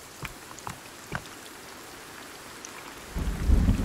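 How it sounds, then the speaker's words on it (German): Steady rain patters in the video game Sons of the Forest, with a few faint distant thunder cracks and then a heavy, low thunder rumble swelling at the end. "Diese Regengeräusche."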